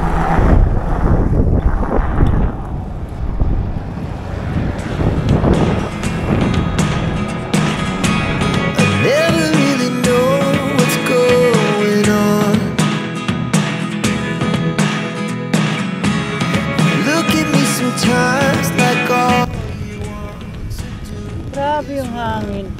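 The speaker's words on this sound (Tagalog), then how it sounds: "Grabe yung hangin." Strong wind roars and buffets the microphone continuously, a loud rushing blast with gusting rumble throughout.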